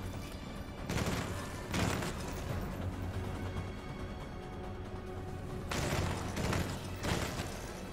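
Rapid turret gunfire in the sci-fi shooter Solstice Chronicles: MIA, a dense, steady rattle of shots, with louder bursts at irregular moments over a busy background of game noise.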